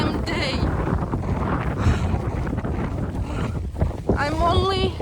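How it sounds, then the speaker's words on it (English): Strong wind buffets the microphone in constant heavy rumbling gusts during a hike through the Champagne region, with a voice briefly audible near the end. "this wind is awful every damn day"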